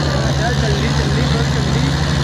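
An old-model Mahindra 575 tractor strains to pull a trailer in a trailer-pulling contest, its engine a loud, steady, close low drone throughout, with voices mixed in.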